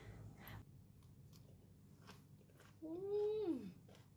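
Crispy fried fish with sweet Thai chili sauce is bitten and chewed up close, with soft crunches throughout, and a short voiced tone rises and falls near the end.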